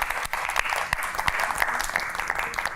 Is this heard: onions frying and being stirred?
no